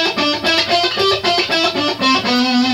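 Electric guitar with a rock tone plays a slow scale of single notes confined to two middle strings, each note picked in steady rhythm, close and fairly loud with no talking.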